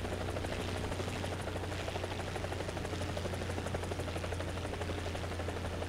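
An AH-1Z Viper attack helicopter in War Thunder spools up its rotor, a steady, even thumping blade beat over a constant turbine whine, unbroken throughout with no talking.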